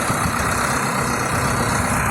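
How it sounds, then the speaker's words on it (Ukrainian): A YTO NLX 1054 tractor engine runs at a steady idle close by, a continuous loud, low rumble with no change in pace and no talking. "отакого трактора придбали, хай працює"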